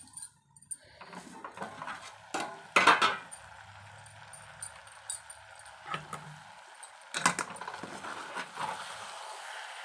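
A metal lid lifted off a pot of Telangana-style brinjal and tomato curry, with clattering clinks and scrapes of cookware at close range, a couple of sharper metallic bursts standing out against quiet kitchen background.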